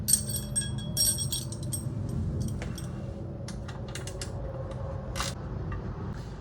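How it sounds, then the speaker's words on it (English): A ratchet fitted with a 6mm Allen bit clicks and turns as floorboard bolts come out of an Indian Challenger motorcycle, with quick metallic ticks and small clinks in short bursts over a low background hum. "a 6mm Allen, and you can either use it on a ratchet or an electric ratchet"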